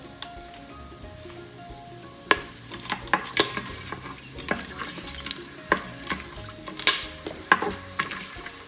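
Whole spices sizzling in about four tablespoons of hot oil in an Instant Pot on sauté mode, a crackling hiss broken by frequent sharp spoon clicks and pops against the metal insert, close and fairly busy.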